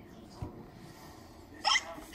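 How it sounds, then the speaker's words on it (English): A cartoon character hiccuping, with two short abrupt hiccup bursts, the second louder, over a quiet background. "George's hiccups are spoiling the game."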